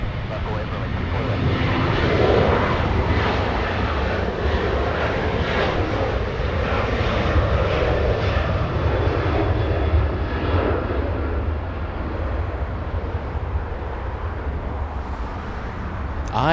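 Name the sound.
Alaska Airlines Boeing 737-900 jet engines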